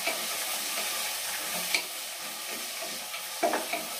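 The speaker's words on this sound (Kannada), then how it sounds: "ಟೊಮೊಟೊನು ಚೆನ್ನಾಗಿ ಫ್ರೈ ಆಗ್ಬೇಕು ಎಣ್ಣೆಲಿ." Tomato and soaked peas fry in oil for a jackfruit biryani, giving a steady moderate sizzle with occasional stirring clicks and scrapes, close by and without voices.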